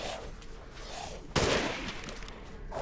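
A single loud handgun shot rings out in the horror game Resident Evil Village, a sharp burst over a steady low game ambience that rumbles on after it.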